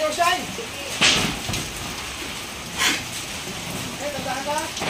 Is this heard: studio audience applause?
no